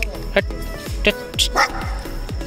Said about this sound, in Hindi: ये भी भोंक रही है इसके ऊपर